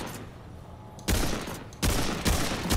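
Gunfire in the video game Remnant 2, with three loud, close bursts of rapid shots separated by brief pauses over a dim background hum.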